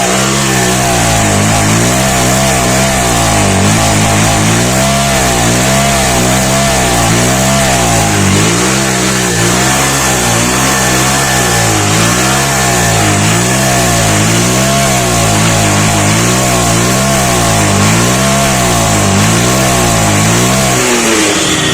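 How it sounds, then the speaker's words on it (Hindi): A motorcycle engine, a bike that will not pick up speed, revs loudly and steadily at full throttle close by with a pulsing, droning tone, and no talk is heard. "सारा एक्सीलेटर पूरा खींच दिया फिर भी गाड़ी भाग नहीं रही"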